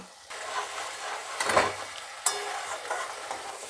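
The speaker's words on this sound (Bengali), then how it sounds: "আমি কন্টেনারটা ধুয়ে একটু জল দিলাম মশলাগুলো ভাজার জন্য" Spices frying in a little water and oil for a Bengali lau kofta curry, a steady close sizzle with stirring scrapes, a louder burst midway and a sharp clink near the end.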